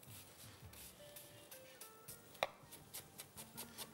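Kitchen knife finely chopping onion on a cutting board, a run of quick, crisp, fairly quiet taps in an irregular rhythm, close up.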